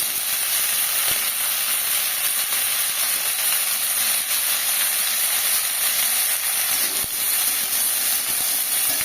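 Beetroot and potato curry tempered with mustard, ginger and green chilli fries in a pan with a constant loud sizzle and hiss, interrupted by a few faint scraping knocks as it is stirred.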